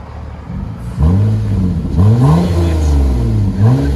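2008 Toyota Avalon V6 with dual exhaust and DTM mufflers revs in three or four sharp blips, each swelling and falling back to idle, loud and close with no talking.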